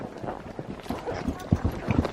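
Horse hooves clip-clop at a steady walking rhythm during a ride through Cappadocia, Turkey, close to the rider, with a faint rush of wind noise behind them.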